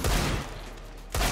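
Gunfire in Counter-Strike: Global Offensive: two loud, close bursts of shots, one at the start and one at the end, with a brief quieter gap between them and no speech.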